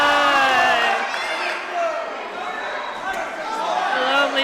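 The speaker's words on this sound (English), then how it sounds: "The crowd are loving this last round." A crowd at a live kickboxing fight roars and cheers continuously through the last round, a dense wash of shouts and whoops filling the arena.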